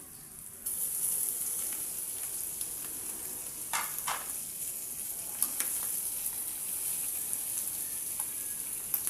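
Mussels and eggplant sautéing in a pan for adobong tahong, a steady close sizzle and fry with occasional stirring clinks and scrapes, continuous and moderately loud, no talking.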